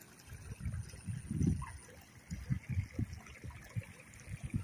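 Strong runoff water after rain rushes toward a rice seedbed, a low continuous churning flow with rhythmic surging gurgles, close and moderately loud, with no voices.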